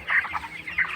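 Broiler chickens in a poultry shed with husk bedding on the floor give soft overlapping clucks and murmurs, two louder bursts standing out over a steady flock chatter, fairly close and with no talk.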